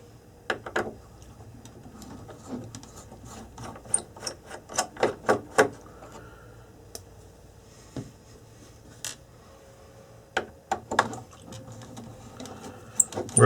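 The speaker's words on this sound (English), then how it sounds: "So we'll just remove the screws." A small screwdriver works screws out of the motors of a crash-damaged DJI Phantom 4 Pro drone, close irregular clicks, ratcheting ticks and small taps coming in bursts, with no talk.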